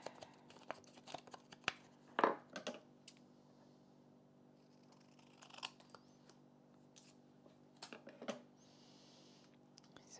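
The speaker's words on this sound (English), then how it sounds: "I'm going to cut this in half." Scissors cut through scrapbook paper in a quiet room, a few short snips and crisp slicing strokes, soft and close, with light paper handling between them.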